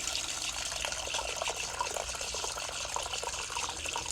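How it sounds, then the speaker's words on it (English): Water draining from a well pressure tank valve into a bucket, a steady splashing trickle with small drips, fairly faint and continuous with no voices. "I'm just going to open this valve up here and just take that last little bit of water off"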